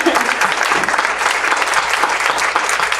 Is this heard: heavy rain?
no